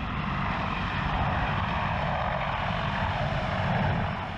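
Steady, close rotor and engine roar of the world's biggest helicopter in flight, a dense continuous drone with low throbbing that holds level throughout and swells slightly near the end.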